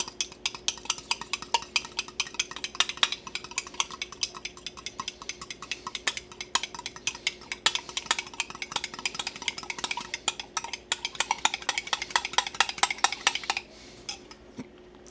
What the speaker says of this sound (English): I'm gonna take this fork and I'm just gonna whisk all that together